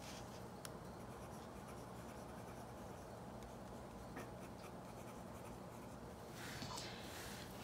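A fountain pen filled with Robert Oster Tokyo Blue Denim ink scratches faintly across paper in a quiet room, with a few soft strokes and a slightly louder scribbling burst near the end.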